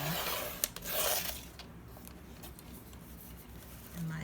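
Scissors cut through paper for a trifold junk journal bellyband, a soft rasping cut with a couple of faint clicks over steady background hiss.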